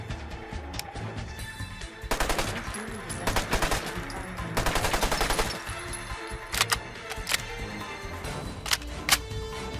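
Rapid automatic fire from a compact, high fire-rate modded weapon in Fallout 4: several loud, tight bursts of quick shots separated by short pauses, with scattered single cracks, close and dominant.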